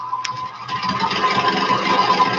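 A Briggs & Stratton snowblower engine runs steadily with a rattling, buzzing drone that holds at an even level throughout.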